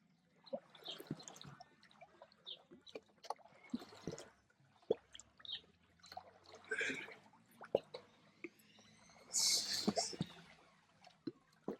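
Water splashing during push-ups in a pool, scattered close drips, sloshes and trickles in irregular bursts with quiet gaps between.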